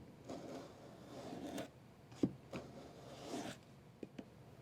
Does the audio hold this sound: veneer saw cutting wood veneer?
yes